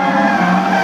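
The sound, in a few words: drift car tires skidding at motor show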